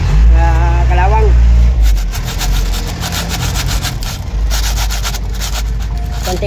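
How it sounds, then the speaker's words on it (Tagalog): Sandpaper rubs rust off a truck kingpin bushing on a Foton truck, a rough scraping texture with a low engine hum beneath, while a voice speaks at the start. "dilihain muna yan para matanggal yung mga ano, kalawang."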